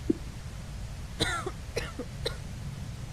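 A female Amazon player character in Blood Bowl 3 coughs several times in short, separated bursts over a low game backdrop. The coughs are fairly close and moderately loud, with no one talking.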